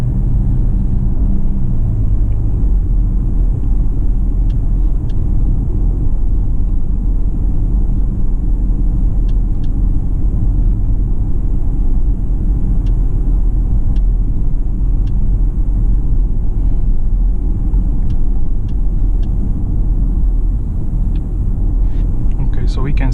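A Mercedes G-Class G350d diesel cruising on Distronic adaptive cruise control, with steady low engine and road rumble filling the cabin throughout and a few faint ticks above it.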